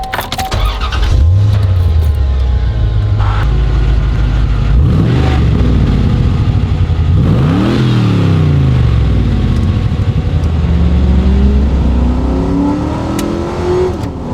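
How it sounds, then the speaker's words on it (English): A C4 Corvette engine revs repeatedly, rising and falling in pitch with a deep, throaty rumble through an upgraded MagnaFlow exhaust, loud and close throughout. "The exhaust has been upgraded to MagnaFlow exhaust,"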